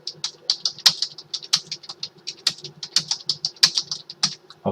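Close, crisp keystrokes as code is typed on a computer keyboard, quick irregular taps in bursts with brief pauses, no voices.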